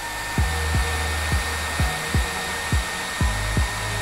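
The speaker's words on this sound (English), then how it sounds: "use the hairdryer at the bottom" A hair dryer blows with a steady, close whooshing hum while a Nokia 6.1 Plus phone skin is heated, broken by a series of about eight short, regular descending tonal blips, with no voices.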